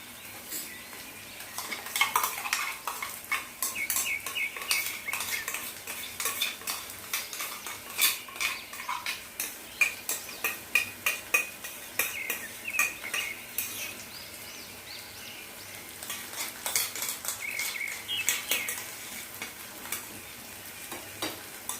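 A paste of cashew, poppy seed and green chilli is stirred in a pan with a metal spoon, giving a run of close, rapid scraping and clinking strokes over a faint frying sizzle, with no speech.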